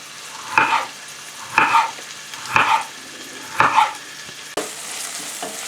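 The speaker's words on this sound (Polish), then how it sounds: "Cebula jest lekko podsmażona, tak zeszklona" Onion fries in a hot pan for a pork loin dish: four rhythmic bursts of stirring and scraping over a low steady sizzle, then a sharp clack as more goes in, with no talk.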